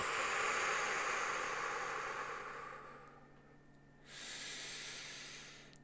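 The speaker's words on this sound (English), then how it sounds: "Breathing it out." Long, deep exhalation during a guided meditation, a soft, breathy hiss that slowly fades, followed by another steady breath out, close and with no talking.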